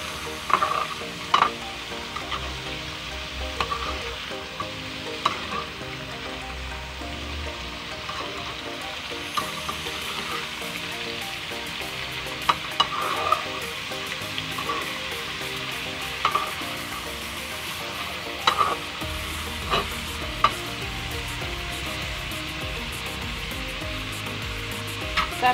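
Chicken liver and gizzard adobo sizzles steadily in a pan while being stirred, with a constant frying hiss broken by occasional sharp scrapes and clicks of the utensil, close and alone without talk.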